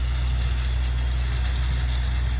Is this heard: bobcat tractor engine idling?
yes